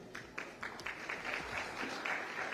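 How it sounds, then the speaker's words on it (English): Audience applause at a conference on India's sustainable future, a dense, even patter of clapping that starts with a few claps and swells into sustained applause across the hall. "A big round of applause, ladies and gentlemen."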